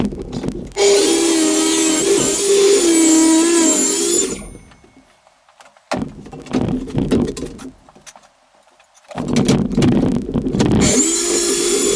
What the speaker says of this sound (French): Donc le tout c'est de déligner maintenant la planche du haut